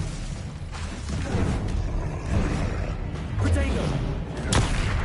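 Expelliarmus disarming spell cast in combat in Hogwarts Legacy on PS5, a burst of magical impacts and booming crackles over a few seconds amid ongoing battle noise.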